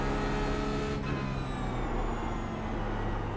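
Porsche Cup race car in the iRacing simulator at Mexico City drones steadily at high revs, a loud continuous engine tone with a gear-change dip near the first second, no voices.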